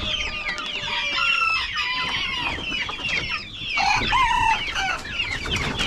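Chickens cluck and squawk in a busy flock inside a farm coop, with a rooster crowing among them, all close and fairly loud with no talking.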